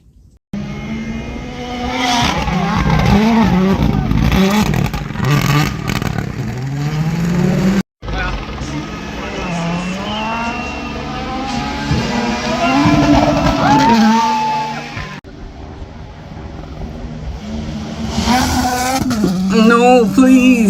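WRC rally cars racing and jumping at Rally Estonia 2023, loud revving engines rising and falling in pitch as cars pass, with abrupt cuts between passes and a person talking over parts of it.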